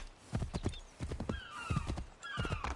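A horse in the Assassin's Creed III video game clip-clops in steady hoofbeats, with a clear whinny rising over the footfalls partway through.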